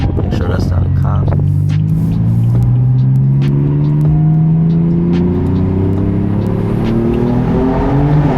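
BMW F82 M4 accelerating hard at night under a bridge, its engine note rising steadily in pitch as it pulls through the gears, a loud continuous drone with road rumble under a voice talking.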